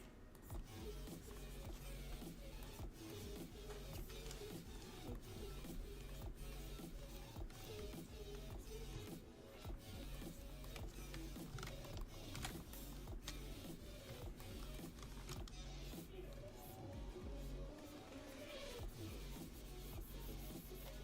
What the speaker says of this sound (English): still fixing the 3D printer?